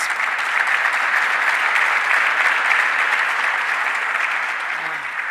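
Steady, full applause from an audience at a Governor Hochul announcement event in Rochester, an even roar of many hands clapping throughout that eases slightly near the end.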